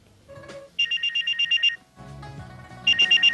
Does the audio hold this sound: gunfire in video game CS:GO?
no